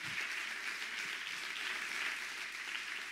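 A church congregation applauds during a sermon, a steady wash of many hands clapping at moderate distance and fairly faint, sustained without a break and with no speech over it.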